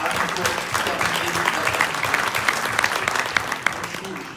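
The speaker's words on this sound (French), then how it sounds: "Je vous demande de l'applaudir" Sustained audience applause at a French political gathering, a dense steady wash of many hands clapping loudly throughout, with crowd murmur mixed in.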